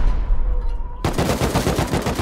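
A sudden burst of rapid automatic gunfire from an automated turret in Rust, erupting after a second of quieter ambience and rattling on loud and close in quick repeated shots.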